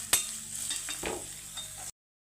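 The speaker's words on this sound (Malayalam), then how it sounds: "അരിഞ്ഞു വെച്ചിരിക്കുന്ന ഇഞ്ചി അരക്കുന്നതിന് നല്ല ബ്രൗൺ കളർ നല്ല പൊടിയണ പോലെ ആവാറാവുന്നു നമുക്ക് അത്ര നേരം വറക്കണം" Chopped ginger fries in a pan with a soft steady sizzle and a few scraping stirs, fairly quiet and close, ending abruptly.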